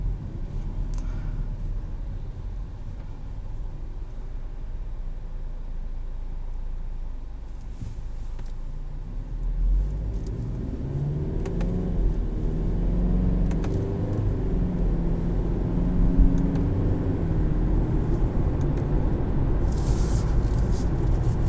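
A 2020 Kia Sportage SX Turbo, an SUV, cruises with a steady low engine and road rumble heard from inside the cabin. Partway through, the drone swells and climbs in pitch under acceleration, and stepped tonal shifts suggest upshifts. No voices are heard.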